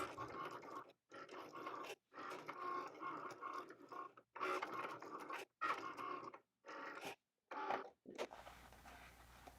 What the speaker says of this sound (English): The process to cut these pieces took about 1 minute 10 seconds